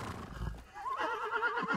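A black horse in the video game Ghost of Tsushima whinnies, a rising, wavering neigh that trembles and fades, preceded by a low snort; fairly close, with no speech.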